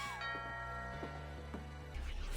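In the video game What Remains of Edith Finch, a two-tone electronic doorbell chime rings against a steady synthetic musical background, the tones ringing out clearly.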